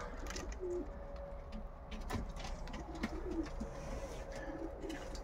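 Several pigeons coo softly and repeatedly inside a pigeon loft, with a low steady background rumble and occasional light knocks.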